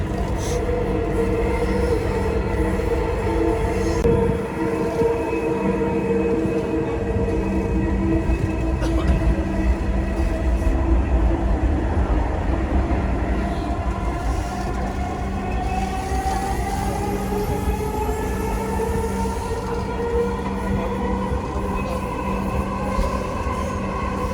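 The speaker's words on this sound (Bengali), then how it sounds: "মেট্রো রেলে উঠে গেছি" Steady rumble of a Dhaka metro rail train in motion, crowded with passengers, with droning motor tones rising and falling and a constant rolling hum of wheels on track.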